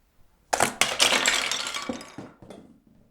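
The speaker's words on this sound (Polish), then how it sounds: "mi udało się za pierwszym razem rozbić całą wieżę" A toy bird launched from an Angry Birds Go! Jenga set crashes into a tower of wooden blocks, setting off a loud close clattering collapse of knocking and tumbling blocks that trails into a few scattered clacks.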